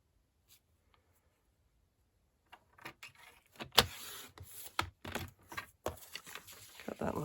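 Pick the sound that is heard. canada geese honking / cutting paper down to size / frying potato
cutting paper down to size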